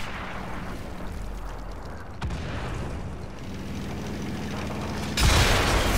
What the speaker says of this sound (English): I didn't think artillery could have hit me from there.